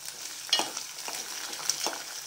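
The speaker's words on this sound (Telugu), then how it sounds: "ఇప్పుడు ఇందులో ముందుగా రెడీ చేసుకున్నటువంటి చిన్న ఉల్లిపాయలు, వీటిని వేసి దోరగా వేపుకోవాలి." Small onions sizzle and fry in hot oil in a pan, with faint stirring scrapes and soft crackles running steadily through the whole stretch, no talk.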